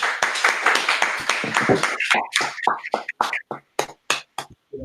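Audience clapping at a religious group meeting, a loud, dense burst of many hands that thins into scattered separate claps and dies away near the end.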